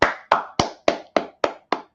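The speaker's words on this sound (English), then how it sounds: "Everybody clap it up for him" Seven sharp, evenly spaced hand claps at a steady rhythm, close and crisp, each with a short decay, heard alone with no talking.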